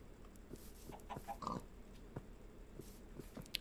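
Pigs in the video game Minecraft give several short, faint oinks and grunts, scattered irregularly over a low background.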